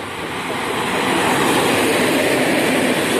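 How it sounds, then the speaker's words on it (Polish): An Intercity Przemyślanin passenger train on the Świnoujście to Przemyśl Główny route pulls into a station, its loud broad rumble swelling in the first half second and then holding steady and close. "Wjeżdża pociąg Intercity Przemyślanin relacji Świnoujście Przemyśl Główny"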